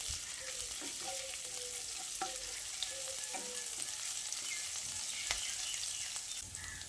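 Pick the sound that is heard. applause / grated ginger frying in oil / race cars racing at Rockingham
grated ginger frying in oil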